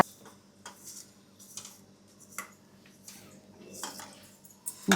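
A metal spoon clinking against a dish while mixing, light scattered taps and chinks, close but quiet, over a faint steady background hum.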